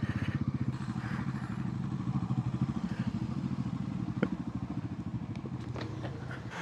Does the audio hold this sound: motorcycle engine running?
yes